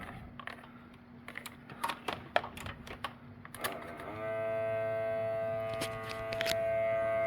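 A car smoke leak-test machine builds pressure for a vacuum leak test on a Mitsubishi Eclipse, starting with scattered clicks and taps and then settling into a steady, loud, tonal whine that keeps going to the end.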